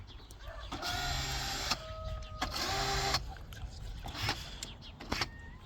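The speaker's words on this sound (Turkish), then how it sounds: "Son kez motorlarımızı bir kez çalıştıralım." Thruster motors of a student-built unmanned underwater vehicle at a Teknofest competition, several short whining electric spin-ups, each lasting about a second, against a steady background hum, fairly quiet.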